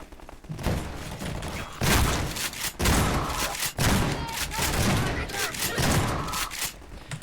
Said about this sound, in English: then Sasco just throw a grenade